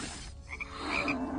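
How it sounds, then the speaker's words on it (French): Bullfrog croaking, with a few short, fairly faint calls repeated against a steady background of other frog noise. "Un taureau grenouille?"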